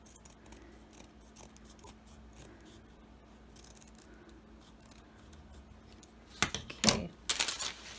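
Scissors cutting along the top of an embroidered piece for a mini bench with a cactus design, faint snips at first, then a few louder, crisp close cuts near the end.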